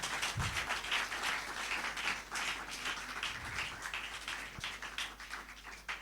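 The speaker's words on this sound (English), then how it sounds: "I think you should do a better round of applause for them" Faint, distant applause from a university audience at a discussion with a politician, a soft, even patter of clapping with a few lower thumps, continuing for several seconds.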